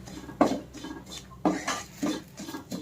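Coriander powder is stirred into a roasted curry masala for Kerala-style varutharacha breadfruit curry, with a utensil scraping and knocking in the pan in four or five distinct close strokes.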